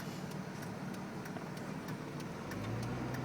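Steady low rumble of a 2005 Dodge Ram 2500 with a Cummins diesel engine while plowing snow, a continuous mid-level drone with faint rhythmic ticks, swelling slightly near the end.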